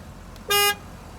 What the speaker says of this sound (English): the Fusions have a single note horn, so this is what the Mustang sounded like in 2019.